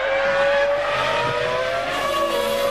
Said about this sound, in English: we're looking now at Jenson Button as he's gone through the first sector